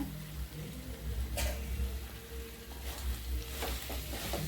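Brinjal thokku, a spicy eggplant relish, cooks in plenty of oil in a pan and is stirred now and then, giving a steady close sizzle and bubbling with occasional soft scrapes and clicks, no voices.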